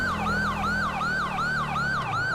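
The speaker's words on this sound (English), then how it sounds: "My siren's on right now because we're driving a bit quicker than usual." Police car siren in the video game GTA 5, a loud, continuous wailing tone rising and falling in quick, regular cycles over a low vehicle engine drone.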